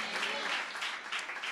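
Congregation clapping hands together during a worship service, a dense steady patter of many claps filling the whole moment, loud and close, with the sound of a preacher's voice woven through it.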